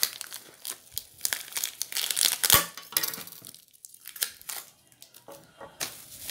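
Adhesive tape crinkles and tears in quick bursts while a bee bait for catching stingless bees is fastened, with close, crisp rustling that comes and goes and one sharp rip near the middle.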